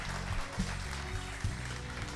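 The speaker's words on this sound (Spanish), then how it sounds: "El público le va a seguir aplaudiendo" A television studio audience applauds during a talk show, a soft, fairly distant patter of clapping that stays steady with a few sharper claps standing out.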